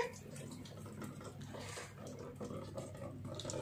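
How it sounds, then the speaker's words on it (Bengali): Water pouring and splashing in a home kitchen, a continuous low rush with small drips and gurgles, fairly quiet and close, with no clear speech over it. "জল পড়ছে"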